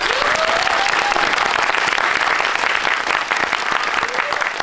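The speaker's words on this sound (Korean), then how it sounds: "박수 한번 드립니다" A cinema audience at a Q&A screening of the Netflix film Carter claps continuously and fairly loudly for nearly five seconds, with a voice briefly heard over the applause.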